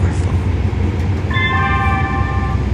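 A Metro K Line train passes below with a steady low rumble, then a bright tonal screech or horn-like whine sustained for over a second, fairly loud and close.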